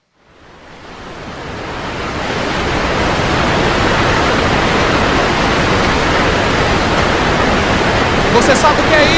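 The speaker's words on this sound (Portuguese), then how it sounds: "isso é o barulho das cataratas do Iguaçu" Roaring water of the Iguaçu Falls, a dense, loud, continuous rush that swells in from silence within the first seconds and then holds steady with no pauses.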